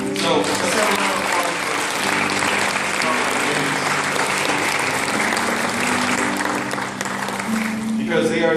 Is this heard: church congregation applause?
yes